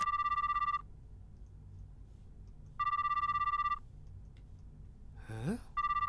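A phone call to Moeka in a Japanese horror game rings through as an electronic ringback tone, loud one-second bursts separated by pauses of quiet, with a brief sigh-like sound near the end before the tone returns.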